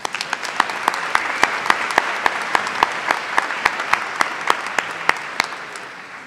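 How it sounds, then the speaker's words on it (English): An audience at a university commencement ceremony applauds the Washburn Singers, a dense, even wash of clapping with distinct close claps popping out at a steady rhythm throughout. "Let's give them another round of applause."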